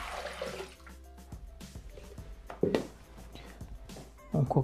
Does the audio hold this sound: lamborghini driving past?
no